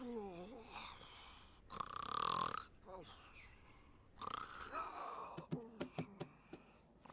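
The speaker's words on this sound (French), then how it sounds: "Il ronfle tellement fort" Loud, drawn-out snoring in an animated cartoon, rasping groaning breaths rising and falling with snorts between them, followed by a series of short sharp sounds.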